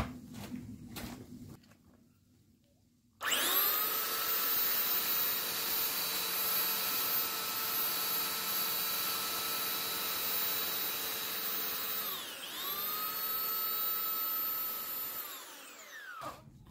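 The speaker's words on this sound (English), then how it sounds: "Now we're going to use the sander just to smooth it out." A power sander smooths the rounded corner of a wooden mount for a small window AC unit in a travel trailer, starting after a few quiet seconds with a loud steady whine, dipping briefly mid-run, then spinning down.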